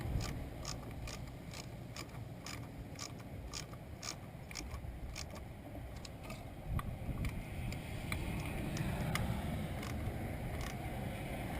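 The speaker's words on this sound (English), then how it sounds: "Got a ratchet on here. Make sure we're tightening." A ratchet tightening a coil pack on a 1999 Nissan Maxima gives a rapid run of regular, crisp clicks, close and fairly quiet over low background hum, with no talking.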